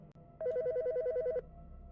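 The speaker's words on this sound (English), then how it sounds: "It's ringing." Phone ringing in the horror video game Bad Summer, one short burst of rapidly warbling electronic ring tones lasting about a second, clear against quiet background.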